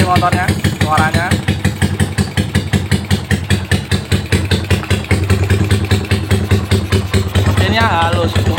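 A tuned, bored-up Yamaha Megapro motorcycle engine runs steadily with a rapid, even firing pulse, close and loud throughout, while a person talks over it at the start and end.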